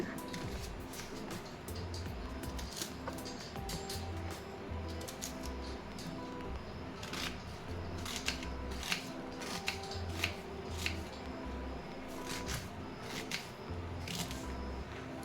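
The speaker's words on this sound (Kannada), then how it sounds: "ಒಗ್ಗರಣೆಗೆ ಈರುಳ್ಳಿ ಕುಯ್ಕೊಳ್ತಾ ಇದ್ದೀನಿ" Repeated crisp clicks of a knife chopping onion against a board, coming in short irregular bursts over a low background hum, close by and fairly quiet.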